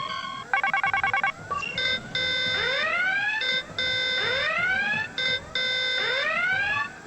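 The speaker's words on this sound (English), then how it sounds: "The game's pumping in its own red alert sound." A video game's red alert alarm blares in repeating bursts: a rapid beeping pulse, then a series of rising whooping sirens, loud and insistent, cycling several times with brief gaps and no voices over it.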